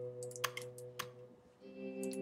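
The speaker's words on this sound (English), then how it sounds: "I keep on accidentally right-clicking." Sharp computer mouse clicks while playing the PC game One Night Stand, a few distinct taps spaced irregularly over steady background game music, close and fairly quiet.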